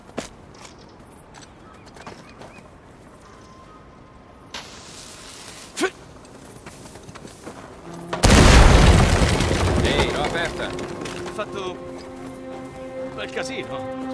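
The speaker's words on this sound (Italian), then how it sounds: "Beh, speriamo che si confonda con le altre esplosioni." Explosion in the video game Uncharted, inside Henry Avery's tomb: quiet ambience and a few thuds, then a sudden loud boom with a rumbling, ringing decay that lingers for several seconds.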